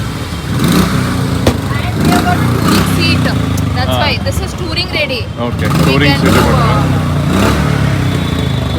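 Royal Enfield Himalayan 450 motorcycles idle and rev at a pre-ride bike scrutiny for the Himalayan Odyssey 2024, engines rumbling steadily under people talking nearby.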